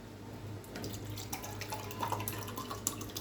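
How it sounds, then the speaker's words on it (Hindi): Water trickles and splashes as it is poured into a pot of washed masoor lentils, a soft steady pour with light gurgling and drips, close and fairly quiet. "इसमें 2 गिलास हम पानी डालेंगे"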